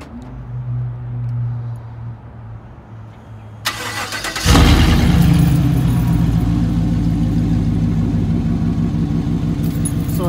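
A Chevrolet Silverado pickup fitted with a 2.5 inch electric exhaust cutout starts up after a quiet lead-in with a faint jingle, the engine catching loudly and settling into a steady, rumbling idle close by.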